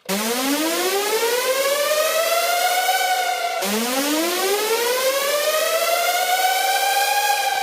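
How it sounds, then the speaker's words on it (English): A synth riser from the Arsenal instrument, controlled by a Triggerfinger Pro, sweeps upward in pitch in two long continuous rises, loud and steady with no talk. "I'm using the Triggerfinger Pro to basically control the riser"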